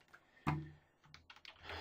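Several light key clicks on a computer keyboard during word-processing work, starting with one louder tap followed by a quick patter of softer keystrokes, close up with no voice.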